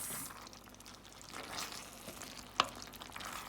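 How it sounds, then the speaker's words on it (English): Grated carrots and potatoes being stirred in coconut milk in a pan over medium-low heat, with a soft, continuous sizzle and scraping and one sharp utensil clink near the end. "And we're gonna give this a mix."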